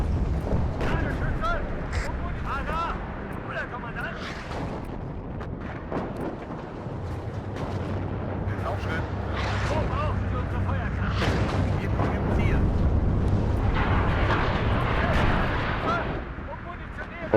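Artillery shells land in the WARNO wargame, with repeated deep booms and rumbling blasts building over the battle alongside gunfire, while someone talks over the barrage.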